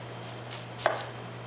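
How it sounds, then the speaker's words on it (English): A knife chops through an onion on a cutting board, trimming the top and bottom: two or three light, crisp cuts over a quiet background hum, one stroke sharper than the rest. "we're going to start off with cutting off the top and bottom of our onion"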